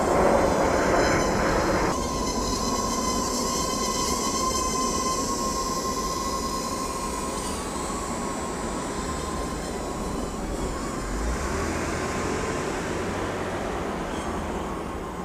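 An Eachine E57 folding drone flies at high rate, its motors giving a loud, continuous whine and buzz that shifts in pitch as it maneuvers, close and steady throughout with no talking.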